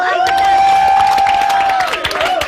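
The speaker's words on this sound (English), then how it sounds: "Let's have a big round of applause for Rachel." A TV studio audience at an X Factor results show cheers and applauds loudly, with whoops and clapping under a sustained electronic musical tone.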